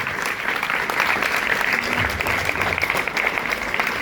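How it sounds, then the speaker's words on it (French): An audience at a press conference gives steady, sustained applause for Olympic table tennis medallists Alexis and Félix Lebrun, a dense continuous clatter of many hands at moderate volume. "Donc déjà, on peut les applaudir."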